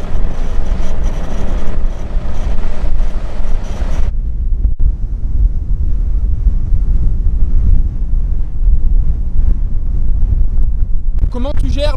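Strong wind buffets a microphone in the Mauritanian desert, a constant loud rumbling roar that runs the whole time, with a brief rustle of movement near the end.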